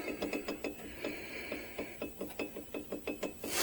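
Micro Van driveshaft U-joint clunking from play between worn cups: a steady rapid train of faint mechanical clicks and knocks, roughly five per second, quiet and close, with no talking.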